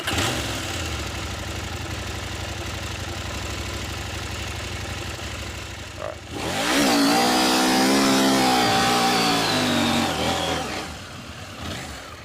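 Motorcycle on sand making an aggressive launch: a steady engine drone rises abruptly into a loud, harsh revving roar with climbing pitch held for several seconds, then easing off near the end, close and without speech.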